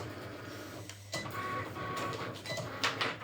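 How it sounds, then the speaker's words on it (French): A printer runs close by as it prints pages, with a steady mechanical whir, clicks and short feed rattles over a low hum. "imprimer la page 20 en 5 exemplaires"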